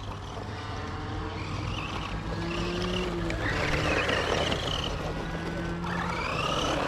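A Funtec mini motorbike being ridden, its small engine droning steadily and loudly throughout with pitch that rises and falls as it accelerates, alongside a constant rush of wind and road noise, with no one talking.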